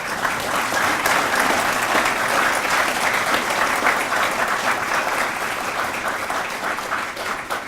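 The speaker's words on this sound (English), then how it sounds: "Let's give her a round of applause" An audience applauds a speaker at a grand re-opening event near the Manhattan Project Visitor Center, with steady, dense clapping that holds strong for about eight seconds before easing slightly at the end.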